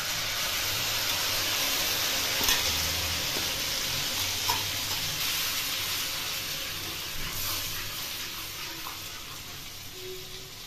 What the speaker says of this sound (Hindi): प्याज सुनहरे हो गए हैं तो पिसा हम यहाँ पर अदरक लहसुन का पिसा हुआ पेस्ट डालेंगे।